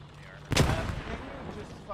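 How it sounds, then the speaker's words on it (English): A single loud, booming gunshot in an online shooter video game, sharp onset followed by a decaying rumble, with faint background game ambience. "I hear shooting."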